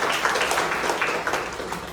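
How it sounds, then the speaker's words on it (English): Steady applause from a Toastmasters club audience at a meeting, an even wash of many hands clapping continuously at moderate volume, with no clear pauses and no talk over it. "she deserves a huge round of applause"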